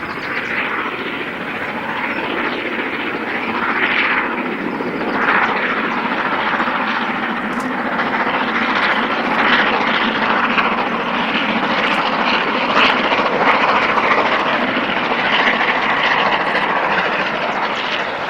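LMS Princess Royal class steam locomotive 6201 working a mainline run between Preston and Carlisle, a loud continuous roar of exhaust and running noise sustained throughout with no talk.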